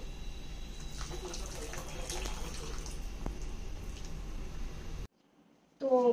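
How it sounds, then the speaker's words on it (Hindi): Blanched spinach dropped into a bowl of cold water while making palak paneer paratha gives a steady close watery sloshing for about five seconds, then brief silence and a short burst of handling noise. "इसको मैंने ठंडा पानी लिया है, इसमें मैंने इसको डाल देना है।"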